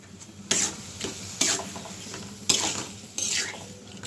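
Carp fish roe stir-fried in a pan, with a utensil scraping and stirring in four distinct bursts over a soft background sizzle; close and moderately loud, with no talking.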